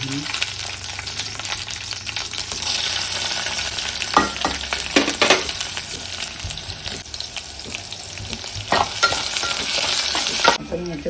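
Garlic sizzles and fries in a hot pan at home while it is stirred, with a steady loud crackle and scraping stir strokes throughout, no talking.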